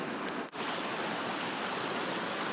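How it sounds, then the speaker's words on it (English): Creek water flows steadily beneath a bridge on a hillside trail in Pinnacle Park, a continuous broadband rush that stays close and even throughout, with no voices. "It crosses this this creek here up the hill."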